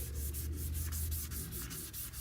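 A headlamp lens being wet- or dry-sanded by hand with 400 grit sandpaper: steady, close, continuous rasping strokes with a rhythmic back-and-forth pulse, alone with no talking.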